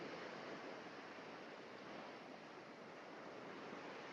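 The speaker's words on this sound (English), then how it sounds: "hearing the waves crashing against the shore" Ocean waves break steadily against the shore as a soft, continuous, even wash of surf, faint and unbroken, with no voices.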